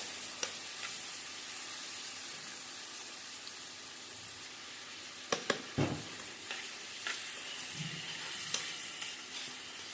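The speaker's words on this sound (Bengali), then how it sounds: "রসুন বাটাটা দিয়ে তেলের মধ্যে একটু নেড়ে ছেড়ে নিব এরপর দিয়ে দেবো আদা জিরে আর ধনে বাটা" Garlic, ginger, cumin and coriander paste fries in oil with a soft, steady sizzle, interrupted by a few sharp utensil knocks and scrapes as it is stirred.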